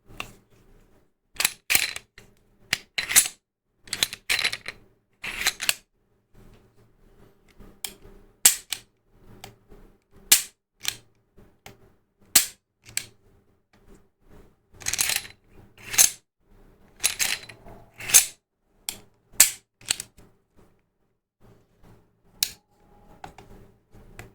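Chiappa Rhino Nebula revolver mechanism clicking: crisp metallic clicks and snaps come in uneven bursts, close and fairly loud, with quiet gaps between them and no talking.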